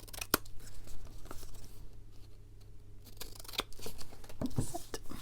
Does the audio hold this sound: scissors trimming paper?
yes